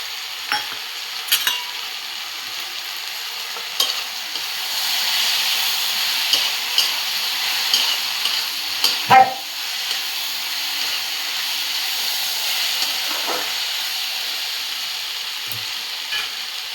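Okra stir-fries in a pan with a steady, broad sizzle and hiss, broken by scattered sharp clinks and scrapes of a spatula against the pan, with no talking.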